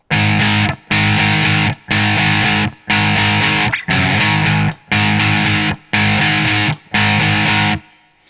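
A heavily distorted electric guitar plays a pre-chorus riff, loud chugging chords in a steady rhythm of about eight bursts separated by sharp stops.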